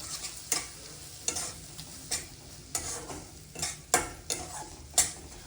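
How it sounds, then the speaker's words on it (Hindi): Paneer masala frying in a pan as cream is stirred in: a steady sizzle under regular scraping spoon strokes, close by, with no voices. "ये मलाई को डालकर और हम इसे अच्छे से मिक्स करेंगे।"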